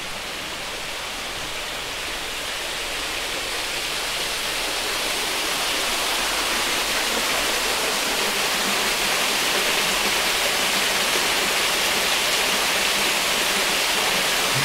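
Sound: waterfall in a botanical garden

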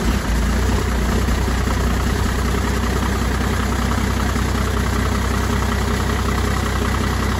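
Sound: 1998 12-valve Cummins diesel engine cold start

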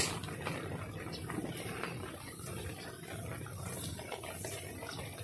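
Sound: rainwater flowing in

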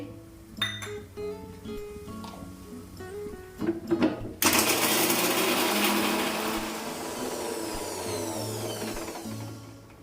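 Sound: mixer grinder grinding cashews

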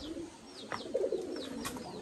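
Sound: pigeons cooing

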